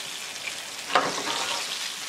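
Herrings frying in hot oil give a steady, close, loud sizzle throughout, with a brief scraping stir near the middle and no voices.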